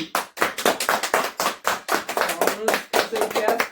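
A small group of siblings claps for Anushka at home, rapid uneven hand claps close to the mic with a voice briefly heard among them.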